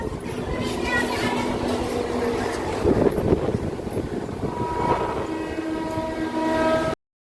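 A Howrah–Panskura local train rolls on near Abada station with a steady, close rumble of wheels and carriages, and sustained horn-like tones rise through the din before it cuts off abruptly.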